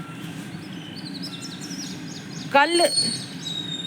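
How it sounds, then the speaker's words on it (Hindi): Birds chirp and twitter on a morning in Jammu, a few short repeated calls faint in the background, then a brief louder burst of chirps, with someone talking throughout. "ये जो पक्षियों की चहचहाहट आप सुन रहे हैं"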